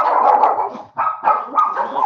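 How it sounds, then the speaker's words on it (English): A dog barks and whimpers in a string of close, loud yips and bow-wows with a brief pause in the middle, indoors just before being sent outside. "Go outside and bark."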